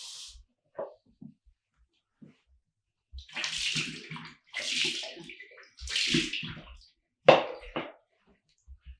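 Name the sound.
pouring water from a cup to wash hands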